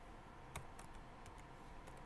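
Someone types a short command on a computer keyboard, a handful of faint, close, irregularly spaced key clicks over a quiet room hum.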